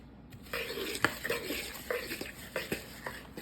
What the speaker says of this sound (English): I'm stirring it.